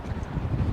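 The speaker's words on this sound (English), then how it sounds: "Although it's windy, which you probably can hear" Steady wind buffeting the microphone outdoors aboard the cruise ship Sun Princess at Mallorca, a low rumbling roar that gusts continuously with no voices.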